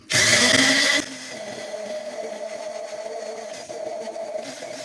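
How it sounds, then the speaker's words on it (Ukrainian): Kitchen blender whirring as it grinds a heaped portion of ground nuts into a chocolate-nut spread, a loud burst of motor noise at first, then a steadier, lower grinding hum running on without any talk. "беру блендер і зразу збиваємо"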